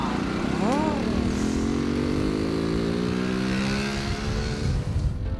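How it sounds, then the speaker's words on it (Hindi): A homemade eight-foot-long bike's engine runs and revs, its whine climbing steadily in pitch, loud and near. "अब बारी आती है इस बाइक को दौड़ाने का"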